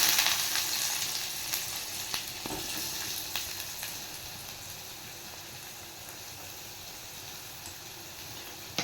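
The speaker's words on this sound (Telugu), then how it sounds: "ఆనియన్స్ వేసి కొంచెం వేపుకున్నాం" Onions frying in oil with cumin seeds in a kadai give a steady broadband sizzle that fades slightly over time, with occasional faint stirring clicks and no voices.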